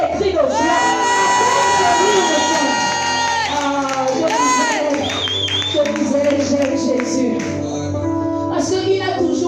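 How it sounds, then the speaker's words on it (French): A church congregation at a Christian conference breaks into loud cries of joy, with many voices shouting, whooping and cheering together in a sustained, reverberant roar. "le peuple prophétique commence à pousser les cris de joie."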